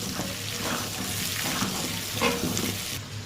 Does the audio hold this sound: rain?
no